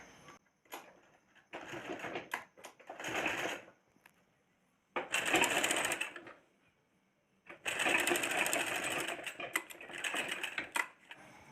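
A sewing machine stitches a tiny 7 cm petticoat, running in several loud bursts with short pauses between them and no talking.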